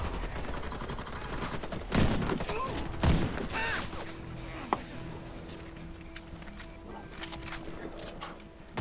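Shotgun fire in a multiplayer shooter video game: a few loud, widely spaced blasts ring out over a busy, clattering game soundscape, with other gunfire and effects in the background.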